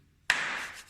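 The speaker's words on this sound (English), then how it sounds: "He clapped his hands." One sharp, close hand clap rings out of near silence, leaving a short, bright room echo.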